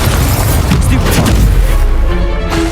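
A Stupefy spell blasts during a Hogwarts Legacy duel, a loud, heavy boom with crackling bursts riding on a thick low rumble that stays dense throughout.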